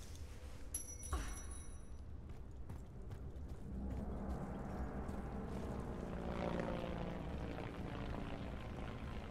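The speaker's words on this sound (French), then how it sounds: "on voit l'hélico passer au-dessus." In a Tomb Raider 2 Remastered cutscene, a helicopter passes overhead. A low, rumbling rotor drone swells in and grows louder over the second half, after a brief sharp sound near the start.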